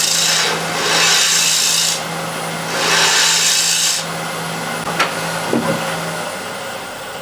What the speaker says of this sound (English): now all we have to do is scrape the bottom here